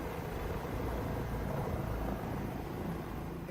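A tour helicopter flies in the predawn dark over Hawaii's erupting Mauna Loa, its rotor and engine giving a steady, dense, close roar with no break.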